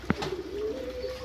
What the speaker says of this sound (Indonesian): Ini adalah jenis merpati lokal endemik Indonesia.